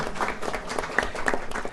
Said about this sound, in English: Yes, people are clapping.